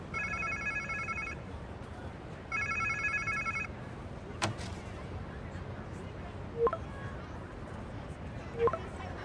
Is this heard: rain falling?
no